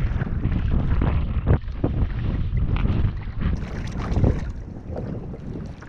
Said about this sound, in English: Here comes that wind.